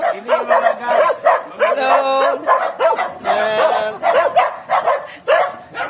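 A dog barks and yips repeatedly at close range, loud and excited, with whiny howling tones between the barks.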